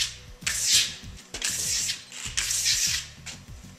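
A trowel compresses and smooths a surface in repeated scraping strokes, each a loud rasping sweep over lower tapping and knocking, in several close passes with no talk.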